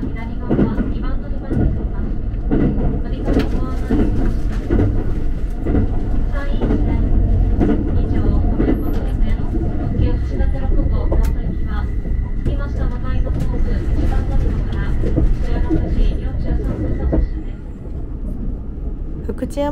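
A train rumbles and clatters steadily with rattling wagon noise, slowing and quieting toward the end as it arrives at Fukuchiyama Station in Japan.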